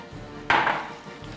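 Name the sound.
adding peas to rice in a pot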